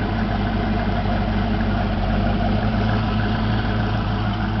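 A 1988 Ford Mustang GT V8 idles steadily at the tailpipe, a continuous low rumbling burble heard up close and loud, with no talking over it.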